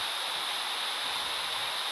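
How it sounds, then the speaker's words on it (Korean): Waterfall ambience from the video game Another Eden, a constant bright rushing wash of falling water, steady and unbroken with no voices. "폭포 소리가 내 마음의 소리"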